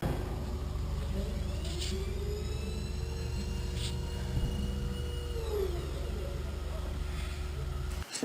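A tire balancing machine spins a car tire in a shop, giving a steady low rumbling whir with a faint rising and falling whine, continuous and fairly close.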